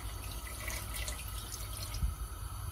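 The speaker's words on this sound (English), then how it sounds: "Add some water to it initially." Water is poured into a pressure cooker holding lamb, giving a continuous splashing, trickling flow at close range with no talk.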